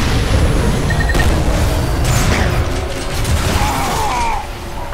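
Video game gunfire and mechanical clatter fill a loud, dense mix, with booming bursts and metallic ratcheting sounds crowding together throughout, close and continuous with no clear speech.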